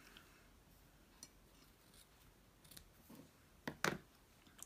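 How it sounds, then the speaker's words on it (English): Scissors cut through a manila envelope folio, with a few faint snips followed by two louder, close, crisp cuts near the end against a quiet background. "I'm deciding right now, I'm going to cut it a bit shorter"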